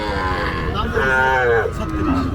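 A calf moos loudly at a cattle market, one long drawn-out bellow up close, with the murmur of the crowd and livestock steady underneath.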